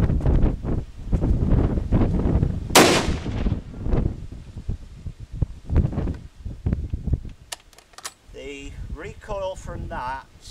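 A rifle fitted with a muzzle brake fires outdoors: one sharp, loud gunshot crack with a quick decaying tail amid wind buffeting the microphone, followed by a voice talking.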